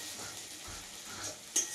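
Spices frying with goat meat in a pan for a kosha curry, a soft steady sizzle with faint stirring scrapes and a brief sharper clink near the end.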